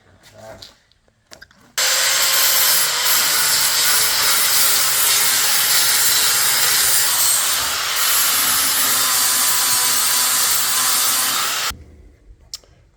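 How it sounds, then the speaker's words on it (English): An angle grinder cuts off spot welds on a car body under restoration, making a loud continuous high whine and rasp for about ten seconds, with quieter shop noise before and after. "he's gonna do some grinding here now and get off those spot welds."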